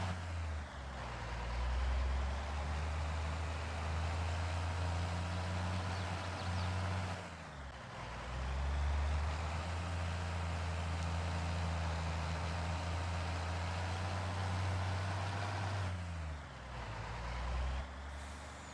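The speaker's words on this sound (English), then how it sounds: "That downshifting sounded horrible." A heavy truck engine hauling a trailer in a driving video game drones steadily and loudly, with two brief dips in the rumble where it downshifts.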